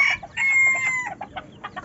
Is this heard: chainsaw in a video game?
no